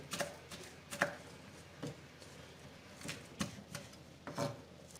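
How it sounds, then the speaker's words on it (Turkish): A knife taps against a cutting board finely chopping parsley in quiet, uneven chops, close by, with short gaps between strokes. "Soğanı doğradıktan sonra maydanozu ince ince doğruyorum."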